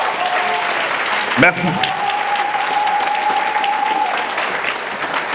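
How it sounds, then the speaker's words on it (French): Audience applause at a political gathering, a steady wash of clapping that runs through the whole stretch, with a single spoken word near the start and a sustained tone lingering underneath. "Wawa, lève-toi pour t'applaudir."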